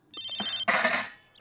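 A short electronic phone ringtone plays once, a bright melodic burst lasting about a second, loud and close, in a quiet room with no talk over it.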